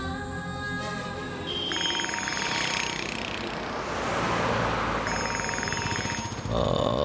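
A telephone rings in a Tamil TV drama scene, a loud bright electronic ringtone sounding in repeated bursts over a steady background hum, close and dominant, with no talking.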